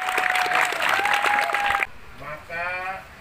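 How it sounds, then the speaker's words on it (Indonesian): An outdoor crowd at a children's baseball league opening ceremony in Samarinda, East Kalimantan, claps loudly for almost two seconds. The applause then stops abruptly and someone speaks alone. "Hei, tepuk tangan."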